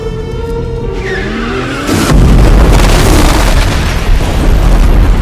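An explosion in a film scene from The Beekeeper, a loud booming blast that follows a rising squeal, erupting into a sustained roaring rumble of fire and debris that stays heavy to the end.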